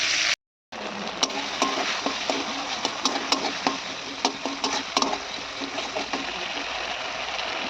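Spice paste of ginger, garlic and tomato frying in a pan for a rohu fish curry, a steady close hiss with scattered crackles and stirring scrapes after a brief silent gap at the start.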